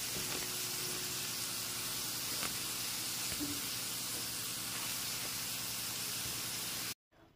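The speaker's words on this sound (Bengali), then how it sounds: "যতক্ষণ না পর্যন্ত পেঁয়াজের কাঁচা গন্ধটা চলে যাচ্ছে ততক্ষণ পর্যন্ত কষিয়ে নিতে হবে।" Onions sautéing in a pan for chicken korma, a steady hissing sizzle held at an even low level with a faint clink or two, cutting off abruptly near the end.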